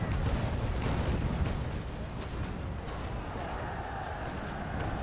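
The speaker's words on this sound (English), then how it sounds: "Get broadside off and fire." Rolling warship broadside cannon fire in the Naval Action video game, a loud, heavy burst of booming shots at the start fading into a sustained rumbling roar.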